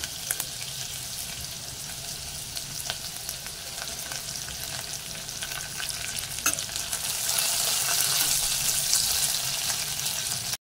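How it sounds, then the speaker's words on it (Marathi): Crackling and popping of mustard seeds in hot oil, a dense sizzle with sharp pops that grows louder toward the end, no voices. "ही बघा राई चांगली अशी तडतडायला पाहिजे"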